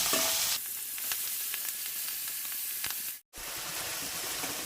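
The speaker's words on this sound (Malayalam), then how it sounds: "എണ്ണ ചൂടായിട്ടുണ്ട്. ഇതേപോലെ ഫ്രൈ ചെയ്യും." Food sizzles and crackles steadily in hot coconut oil in a kadai, a loud, close, continuous frying hiss with one brief dropout near the end.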